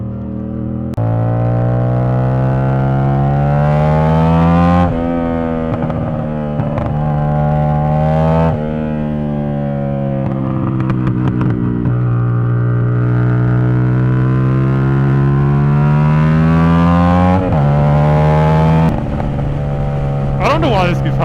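A motorcycle engine revs and climbs through gears on a road, its drone rising and dropping at each shift in a long repeating pattern, close and loud, while a rider talks over it.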